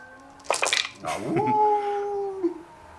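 A dog lets out a high, wavering howl that rises and holds for about a second and a half, preceded by a few short yips, fairly close and clear over a quiet background.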